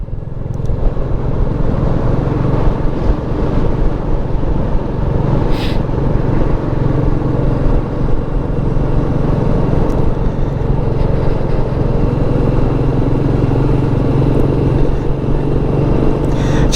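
A standard Royal Enfield Meteor 350 motorcycle with a BMC washable air filter is ridden past a harbour in sunshine, its engine droning loud and steady throughout along with constant wind rush.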